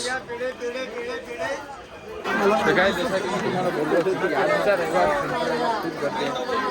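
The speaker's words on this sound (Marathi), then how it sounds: "गर्दी तर आहे" A dense crowd chatters on the Kadepathar trek, a close, continuous babble of many voices that grows louder and busier partway through.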